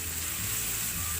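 Kangkong dropped into a hot pan with sautéed garlic and onion, giving a steady, close, bright sizzle of frying that holds evenly throughout with no talking.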